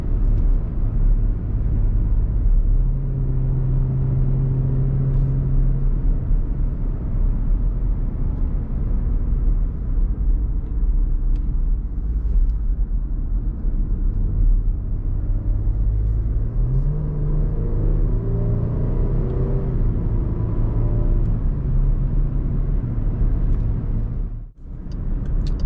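A 2021 Jeep Grand Cherokee Laredo E engine hums steadily from inside the cabin while driving, a loud constant low rumble with road noise and gentle rises in engine pitch as it accelerates.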